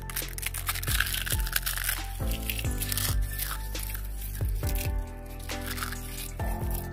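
Eggshells crushed by hand into a fertilizer mix, a series of crisp crackles and crunches in irregular bursts, close and steady with no talk.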